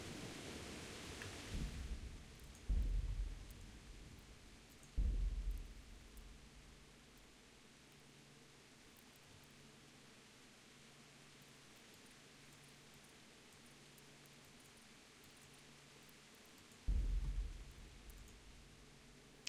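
Rain and thunder in the medieval video game Kingdom Come: Deliverance: a steady wash of rainfall with three heavy thunder cracks rolling in, two close together early on and one near the end.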